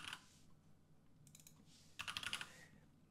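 Typing on a computer keyboard while coding, a few scattered keystrokes then a quick burst of clicking taps, quiet and close.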